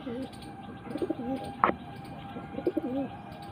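Pink-banded pigeons coo in a low, rolling voice, two clear bursts of cooing with a brief sharp chirp between them, close by against a steady background hum.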